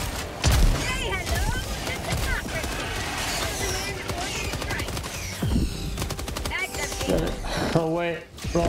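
Airstrike explosions and gunfire in the co-op shooter Helldivers 2, a dense chaotic barrage of blasts, booms and rapid shots running continuously, with voices talking over the din.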